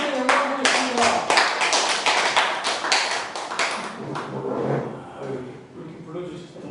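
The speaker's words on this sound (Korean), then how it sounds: "박수로 함께 영광 드리겠습니다" A seminar audience claps for a guest speaker: a burst of distinct, fairly loud hand claps that thins out and fades after a few seconds.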